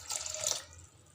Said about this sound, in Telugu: ఇప్పుడు ఇందులో 1 గ్లాస్ వాటర్ పోస్తున్నాను.